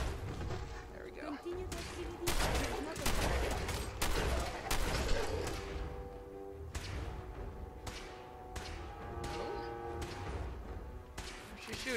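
Gunfire in Fallout 4 VR rings out in repeated sharp cracks and bursts, some clustered, some spaced, mid-distance and fairly loud, with voices talking over parts of the exchange.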